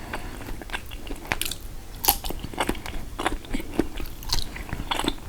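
Meat being bitten and chewed up close, with crisp crunchy bites and wet chewing clicks in an uneven, steady rhythm throughout, loud and intimate with no talking.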